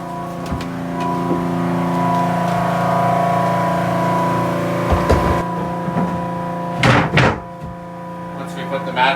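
A Rainman watermaker runs aboard a boat while filling the tanks, a steady machine hum with fixed tones holding throughout, broken by a few loud knocks and thumps near the end; people talk over it.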